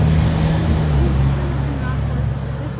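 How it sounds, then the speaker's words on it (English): A boat's engine runs steadily on a vacation outing near Tela, Honduras, a loud continuous low drone that fades slightly toward the end, with some speech mixed in. "See the engine go?"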